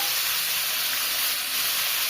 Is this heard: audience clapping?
no